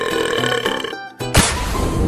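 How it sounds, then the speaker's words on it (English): A drawn-out burp from a person during a geometric-shape food challenge, loud and close, a gurgling tonal belch that breaks off midway and resumes with a rougher, noisier finish. "I think I'm burping."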